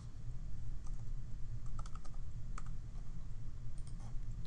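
Quick bursts of computer keyboard typing, crisp key clicks in short clusters over a low steady background hum, close and fairly quiet.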